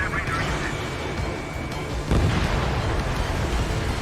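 A base blows up in the flight combat game Ace Combat 7 with one loud, heavy boom midway through, over a steady roar that continues afterward.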